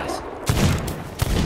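Two loud, booming gunshots about three-quarters of a second apart in the pirate game Sea of Thieves, close and punchy over a busy background.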